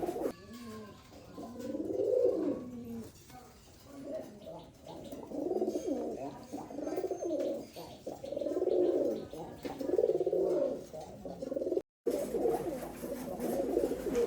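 A prized domestic pigeon coos again and again in low, throaty rolling phrases, each lasting a second or two, moderately close over a constant noisy background with one brief dropout near the end.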